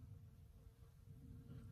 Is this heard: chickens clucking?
no